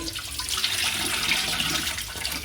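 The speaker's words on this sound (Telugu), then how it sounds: "దీనిపైన ట్యాప్ తిప్పండి ఇట్లా వాటర్ తిప్పేసేసి నీటి కడిగేసి" Tap water pours steadily over a tightly tied cloth bundle of homemade paneer, a continuous close splashing rush with no talking.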